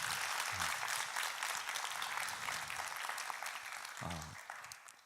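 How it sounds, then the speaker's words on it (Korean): A church audience at a lecture gives encouraging applause, a fairly soft, steady patter of many hands that gradually fades. Brief low murmurs of voices show through near the start and again toward the end. "다시 한번 격려 박수 보내드리고요"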